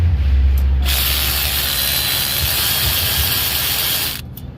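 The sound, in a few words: Snap-On brushless 3/8 drive cordless ratchet loosening CAC tube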